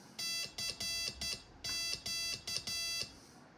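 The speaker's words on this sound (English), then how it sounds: "you can hear that I'm doing a pretty good job of sending the Sidetone straight into the amplifier" Morse code CW sidetone from a homebuilt Soldersmoke DCRX radio fed into an amplifier, a steady pure beep keyed in short and long bursts, about eight tones in a quick irregular rhythm, clear and close with no talk.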